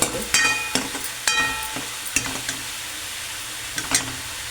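Chopped onion frying with salt in a pan for pav bhaji, a light sizzle broken by sharp metallic clanks and scrapes of a spoon stirring at an uneven pace, close by.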